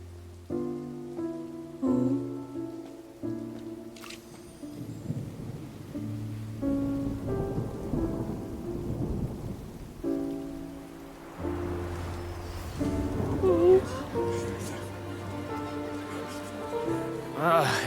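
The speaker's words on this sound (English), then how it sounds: "It's raining again? I've had enough of this weather." Rain pours down amid game music in the video game Genshin Impact, with low thunder rumbling now and then, the storm rising and falling in loudness throughout.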